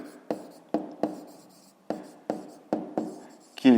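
Pen strokes on paper during a fifth-grade maths exercise, a series of short scratchy taps spaced unevenly, close and fairly quiet, ending with a brief louder rustle.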